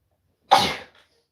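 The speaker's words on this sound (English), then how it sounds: "hold on, I gotta sneeze." A single sharp sneeze, close and loud, bursting out abruptly and trailing off quickly into silence.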